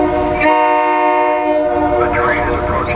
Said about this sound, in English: This is Septa train 406 to Warminster.